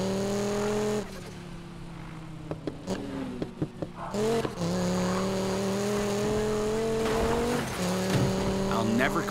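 Race car driving in Need for Speed Payback: a steady, close engine drone with shifting pitch, a dip where the revs fall and pick up again, brief clicks and tire noise, and a voice speaking over it.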